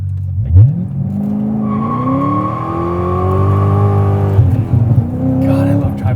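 A C6 Corvette Z06 launches hard, its engine revving up through a rising, sustained roar that climbs steadily before easing off, then building again, loud and close throughout.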